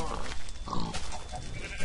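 Sheep in the Minecraft video game bleat in short, quiet calls from a farm stable, mixed with soft in-game background noise.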